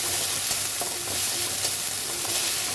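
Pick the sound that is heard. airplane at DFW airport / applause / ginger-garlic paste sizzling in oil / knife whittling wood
ginger-garlic paste sizzling in oil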